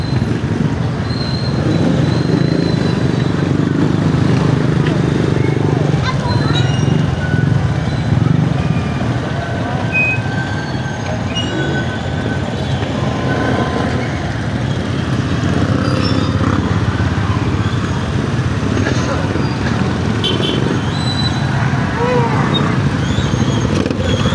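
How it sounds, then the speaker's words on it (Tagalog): Steady stream of motorcycle and vehicle engines passing along a street in Passi City in the afternoon, a continuous droning rumble that swells and fades slightly with each pass. "Marami na parami ngayon yung mga motorsiklo ngayon."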